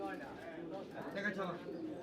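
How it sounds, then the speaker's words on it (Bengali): Soft pigeon cooing from caged pigeons close by at a pigeon market in Saruliya, Bangladesh, mixed with rustling and faint voices in the background. "এই যে কবুতর খাঁচায় বড় হচ্ছে"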